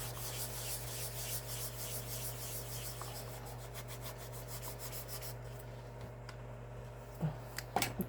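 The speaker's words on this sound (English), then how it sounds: "I'm going to take it and I'm going to take my dry eraser" Dry eraser rubbing across a paper card, a continuous soft scratchy friction heard close, with a few light taps near the end and no speech.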